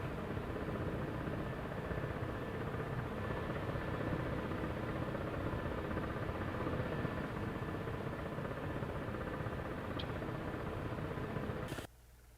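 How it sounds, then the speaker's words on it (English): A video game helicopter's rotor thrums steadily and loudly throughout, a constant engine drone with no voices, cutting off abruptly near the end. "I can't take this helicopter."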